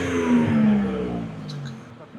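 Car engine revving hard through a titanium exhaust with flaps that open above 4,000 RPM, a loud rising-then-falling roar up close that tails off toward the end.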